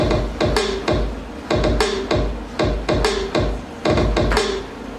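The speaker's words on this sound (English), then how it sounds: "I found a beat or a drum kit that I like, and it sounds like this." An electronic drum beat loops steadily, with crisp snappy hits and low thumps in a repeating rhythm, no voices.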